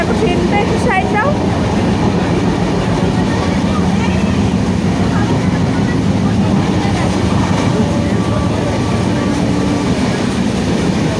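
A train rumbles past close by at a busy station, a loud steady roar with faint clickety-clack of the wagons, while people talk in the background throughout.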